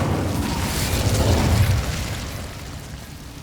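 An Incendio fire spell cast in the game Hogwarts Legacy, a loud, deep whooshing burst of flame that roars for a couple of seconds before easing into a fading rumble.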